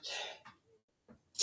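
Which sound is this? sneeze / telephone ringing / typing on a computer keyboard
sneeze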